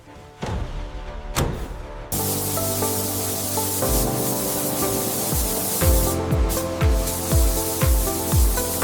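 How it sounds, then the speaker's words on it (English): Robotic arms spray chrome solution onto car tires in a factory, a steady loud hiss of spraying running continuously, joined by repeated mechanical thumps in the later part. "Witness the mesmerizing process of our precision robotic arms applying the chrome solution for an even coat and brilliant shine."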